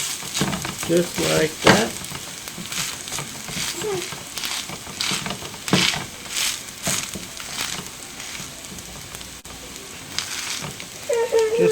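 Shredded hash browns sizzle steadily in a hot pan while being pushed and spread into an even layer, with scraping and stirring bursts over the constant frying hiss and a brief spoken remark near the end.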